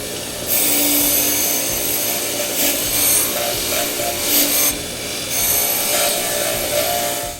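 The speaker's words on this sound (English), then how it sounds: "I'm just going to use the wire wheel, and I'm going to remove all of the burrs" A wire wheel grinding burrs and manufacturer's paint off a steel saw blade being made into a throwing star; a loud, harsh, continuous scraping whir with brief pressure surges, close up and without talk.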